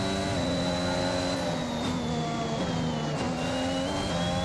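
A Formula One race car engine in the F1 2021 racing game, at the Dutch Grand Prix, screams at high revs, a steady whine that shifts gear, continuous and loud with no talk.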